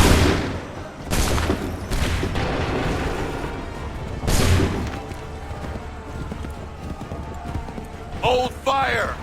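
Musket volleys ring out in battle in the video game Assassin's Creed III, several loud broadband blasts spaced apart with sustained crowd noise and hooves between them, and shouted voices near the end.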